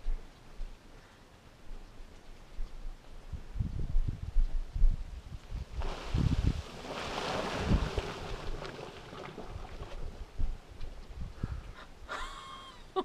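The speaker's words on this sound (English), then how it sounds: "That's a Rabbit Creek geyser." Rabbit Creek geyser erupting outdoors: a broad, rising hiss and rumble swells in around the midpoint and holds steady, with wind buffeting the microphone and low thumps beneath, no talk over it.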